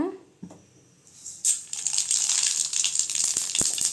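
Mustard seeds hitting hot oil in a pan, a sharp crackling sizzle that kicks in after a brief pause and keeps spitting with scattered pops, close and fairly loud.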